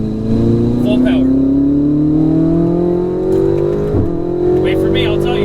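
Ferrari 488 GTB at full power on a track, engine note rising steadily as it accelerates hard up through the revs, loud and close, with a brief shift dip near the end and an instructor's voice over it.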